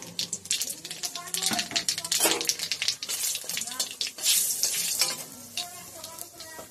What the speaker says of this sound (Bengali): অল্প তেল দিয়ে দিচ্ছি, সরষার তেল, দুটো শুকনো লঙ্কা, কালো জিরা সম্বার দিয়ে দিলাম